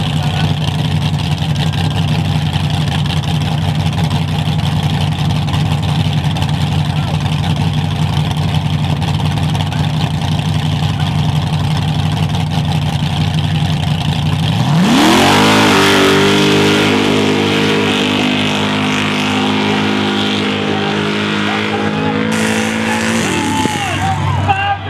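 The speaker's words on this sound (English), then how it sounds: "I also run a truck called the Singer Slinger, which has a 540 blown alcohol motor in it." A 540 cubic inch blown alcohol engine in a Chevy-powered Ford race truck runs loud and close at a high steady drone, then revs up sharply and holds at high revs at a Zwolle, Louisiana fiesta.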